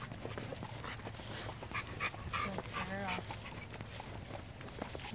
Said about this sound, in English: Oh, there's a dog right there.